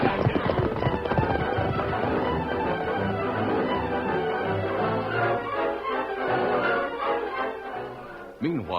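Horses gallop in a busy old radio drama scene, with hooves clip-clopping hard and fast under music and voices, loud and steady throughout.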